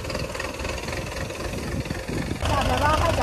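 A tractor engine runs steadily with a low mid-pitched drone while harrowing a hard field during spring tilling, getting louder and rougher near the end, and voices are heard over it.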